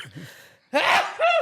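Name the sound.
sneeze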